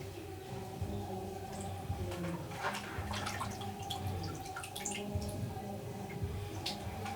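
Raw liver washed by hand in a bowl of water, with steady sloshing, dripping and squishing close up and small splashes throughout.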